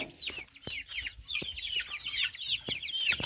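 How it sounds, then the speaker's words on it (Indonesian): Village chickens (ayam kampung) mixed in with young chicks, giving a steady run of overlapping clucks and chirps close by, with no one speaking over them. "ayam kampung juga."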